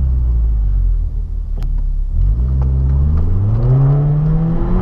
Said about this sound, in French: ça pétarade plutôt pas mal à l'échappement